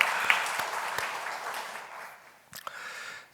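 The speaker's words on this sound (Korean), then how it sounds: "한 번 더 우리 박은선 집사님께 박수를" A church congregation applauds during a Sunday service, a broad wash of clapping that swells briefly and then thins and fades toward the end, with a few isolated claps trailing.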